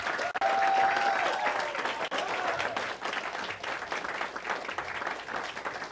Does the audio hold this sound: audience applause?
yes